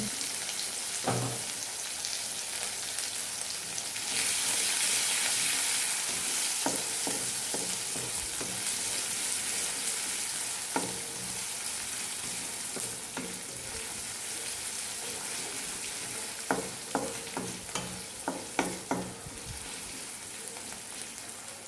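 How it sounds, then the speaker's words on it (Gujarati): Two medium-sized onions, finely chopped, fry in hot oil in a pan with a steady close sizzle, while a spoon scrapes and stirs in irregular clacks and scrapes; no talking. "ડુંગળીનો કલર બદલાય ત્યાં સુધી આપણે આને પકવવાની છે"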